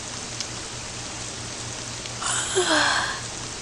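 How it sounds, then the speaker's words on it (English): Steady rain hiss from a downpour in an RPG-style video game, a constant wash of falling water with a brief louder swell of splashing near the end. "Now I'm stuck in a downpour."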